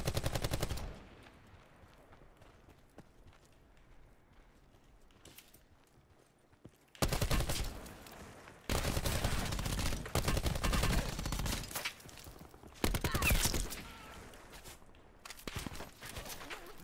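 Bursts of automatic gunfire in Call of Duty: Black Ops 4 Blackout mode, with an opening burst, a quieter stretch of faint steps and scattered shots, then heavy sustained volleys loud and close.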